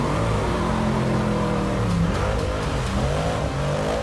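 A Batmobile, a rally-inspired four-wheel-drive car, revs its engine hard and continuously, a loud close roar with rising and falling pitch throughout.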